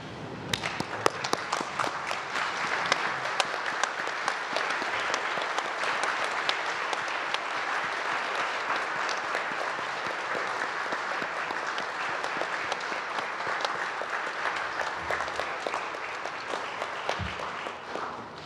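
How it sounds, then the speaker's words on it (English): At a graduation ceremony, a standing audience gives the graduates long, sustained applause, a dense and even wash of clapping that runs for nearly twenty seconds before easing off. "in a final congratulations, applaud those who graduated this afternoon"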